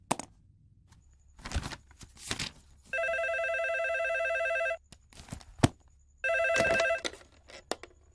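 A telephone rings indoors in two long electronic bursts, separated by short pauses and scattered footsteps or movement noises, with no talking.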